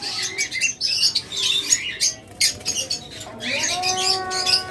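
Caged lovebirds at a dealer's chirp and squawk continuously, a dense chorus of overlapping calls with a few sharper squawks standing out.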